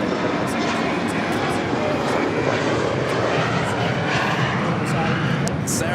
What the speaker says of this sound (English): Pushing back from the gates, Air Canada Flight 788 will be heading back to Toronto in that